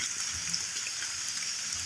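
Rain falls over a rubber tree plantation as a soft, even hiss, faint and continuous with no voices.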